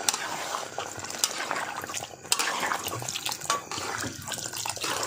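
Water poured into a pan of chhole paneer curry with cashew and melon seed paste while cooking, a steady splashing, gurgling stream heard up close with no talking.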